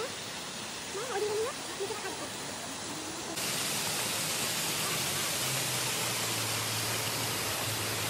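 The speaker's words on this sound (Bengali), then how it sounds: "সিঁড়ি দিয়ে ওপরের দিকে উঠতেই আমরা কিন্তু দেখতে পেয়ে গিয়েছিলাম এই ঝর্ণাটা" Amitabh Bachchan Waterfalls in North Sikkim rushes as a steady broadband roar of falling water that swells louder midway and fills the whole clip, with faint voices audible early on.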